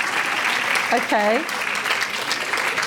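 Audience applause at the 2018 Wales & South West Maternity & Midwifery Festival Awards, a continuous wash of clapping with a brief spoken word rising over it partway through.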